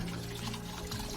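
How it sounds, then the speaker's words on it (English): Water pours steadily out of the removed drain plug port of a Mercruiser 350 MAG MPI engine in a Tahoe 234 boat being winterized, a continuous close splashing gush with no pauses. "you can see water just pouring out of there"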